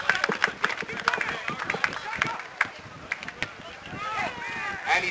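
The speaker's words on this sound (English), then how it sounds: "Let's give him a big round of applause." Scattered clapping and crowd murmur at an amateur soccer match, fairly faint and distant, with sharp individual claps over a general babble and a voice speaking over it.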